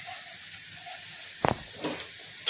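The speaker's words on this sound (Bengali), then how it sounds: "এরপর আমি এর মধ্যে দিয়ে দেবো পরিমাণ মতো রসুন বাটা, যেটা আমি আগেই বেটে রেখেছিলাম।" Garlic paste frying with browned onions in a pan for a Bengali mutton curry: a faint steady sizzle with a few short bursts of louder spitting and stirring.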